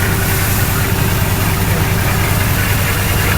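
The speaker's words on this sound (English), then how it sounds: "It's misfiring and everything, Rick." A 2011 Ram truck engine runs loud and close with a rough, uneven idle as it misfires, a continuous rumbling drone with no voices.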